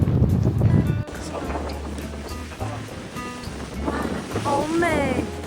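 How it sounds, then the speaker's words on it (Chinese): Strong wind at the New Zealand seaside near Oamaru, where sea lions lie on the shore, buffets the microphone in heavy rumbling gusts over the wash of waves, while people talk now and then. "这海边的风实在是太大了"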